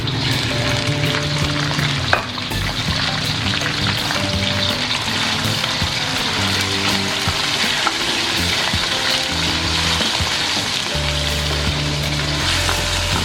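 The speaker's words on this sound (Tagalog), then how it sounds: "ginisak na lang pala yung bawang saka yung sibuyas" Garlic and onion sauté in a pan with a loud, close, continuous sizzle, with a clink and stirring clatter over the hiss.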